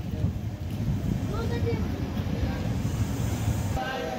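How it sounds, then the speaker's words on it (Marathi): The 11045 Deekshabhoomi Express with LHB coaches rolls into Kurduwadi Junction, heard as a low, steady rumble and clatter of the coaches at close range. A voice talks over the noise, and a brief hiss breaks through near the end. "9:23 कुरुडवाडी जंक्शनवरती आपली ट्रेन आलेली आहे"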